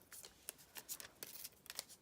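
Dull scissors snip through craft ribbon in a quick run of faint, crisp cuts and rustles, several uneven snaps in close succession, close by in a quiet room with no talking.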